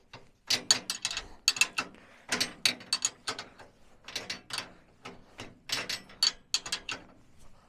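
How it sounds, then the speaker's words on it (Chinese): A socket wrench ratchets on a bolt during a roadside motorhome repair at high altitude, sounding as close, crisp bursts of rapid clicks in repeated strokes with short pauses between. "这是我的套筒，这是我的扳手。"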